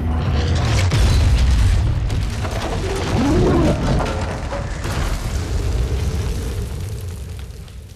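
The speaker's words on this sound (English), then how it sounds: "Condor coming in!" A Condor aircraft arrives during action in the Gears of War 4 video game, heard as a heavy booming roar and rumble with explosive bursts and mechanical whoosh, loud and continuous throughout.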